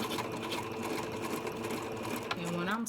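A sewing machine stitches down the middle of tulle for a tutu, running in a steady, close, continuous whir, with a voice briefly rising over it near the end.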